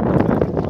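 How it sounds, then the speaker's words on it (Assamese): A brief gust of breeze by the water buffets the microphone with a low, rumbling roar that stays loud and steady for the whole moment, with no voices. "কি মজা একদম ধুনীয়া বতাহ"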